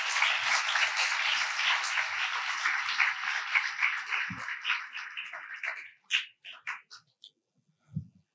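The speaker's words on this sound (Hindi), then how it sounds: "उनके लिए 1000 तालियां।" A spiritual discourse audience claps together in a sustained burst that gradually thins and fades to scattered sparse claps, with a few soft knocks near the end.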